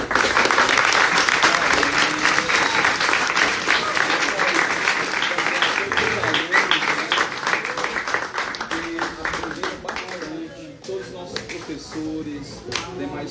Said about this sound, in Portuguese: Muito bem, vamos aplaudir aqui os nossos